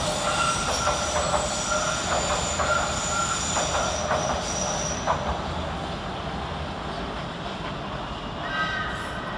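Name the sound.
S8 Tube Stock train departing London Paddington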